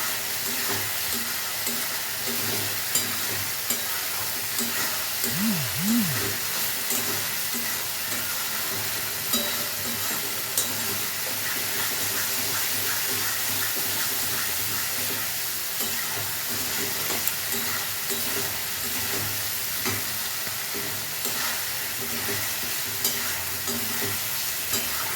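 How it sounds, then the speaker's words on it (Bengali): Chicken for chicken ghugni being stirred and fried in a pan, giving a steady, continuous sizzle with occasional scraping from the spoon, close by and with no voices. "মিশিয়ে আমি ভালো করে চিকেনটাকে কষিয়ে নেব"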